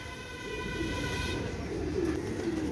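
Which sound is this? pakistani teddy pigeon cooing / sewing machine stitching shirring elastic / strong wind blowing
pakistani teddy pigeon cooing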